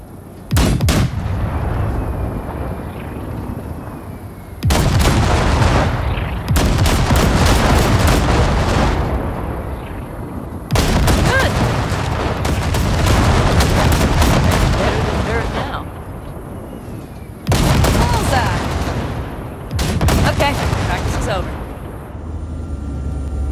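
Guns on the Basilisk, a cargo ship in Cyberpunk 2077, blast wrecks in heavy, booming bursts of rapid fire, loud and close, separated by short lulls of rumbling engine noise.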